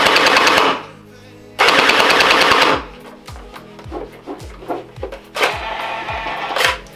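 A TAR21 Gen8 gel blaster fires an automatic burst of rapid shots, loud and close, with broadband bursts separated by short gaps and a string of sharp repeated mechanical clicks at the end.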